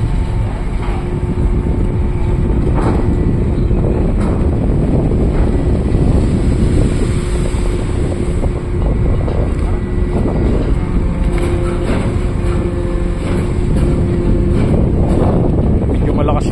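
Strong wind at sea buffets the microphone in a constant loud roar, mixed with the drone of a boat engine and strong waves, and a voice is faintly heard talking underneath.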